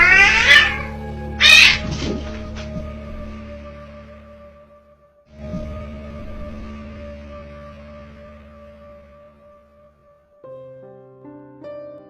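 Several cats meow and caterwaul at midnight while acting strangely, with loud harmonic cries in the first two seconds, then a long low wail and sustained drawn-out howls fading in and out.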